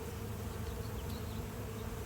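Honeybees buzz continuously and densely during a hive inspection, a close, steady drone with no pauses.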